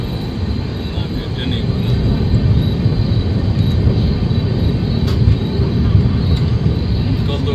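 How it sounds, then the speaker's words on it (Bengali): A train pulls into Sairang railway station with a steady, loud rumble of rolling wheels and engine noise, heavy and continuous throughout. "সেই ট্রেন 8:05 ঢুকলো সাইরাং"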